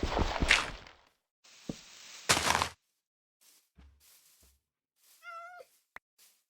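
A cat meows in the Minecraft video game: a short rising-falling meow near the end, amid scattered game sounds like footsteps and clicks, with brief bursts of noise early on.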